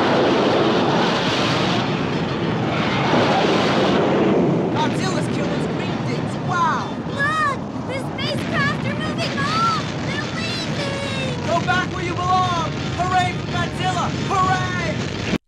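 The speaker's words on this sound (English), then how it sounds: "The army attacks them, and it's another round of explosions." Dramatized explosions in a Godzilla record audio story: rumbling blasts and bursts of noise open the passage, then give way to whistling, swooping sound effects and chirps as the army attacks creatures.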